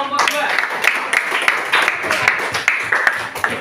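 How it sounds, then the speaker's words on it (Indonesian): Students in a school classroom clap for a classmate, a brief burst of scattered, uneven hand claps from a small group, fairly close, with some voices underneath. "Tepuk tangan untuk Kristiana kelompok dua."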